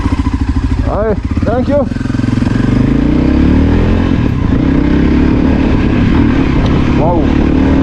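A Voge Rally 300 motorcycle engine drones steadily and close as the bike is ridden in the Rift Valley, with a brief voice speaking over it early on.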